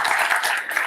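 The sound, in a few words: audience clapping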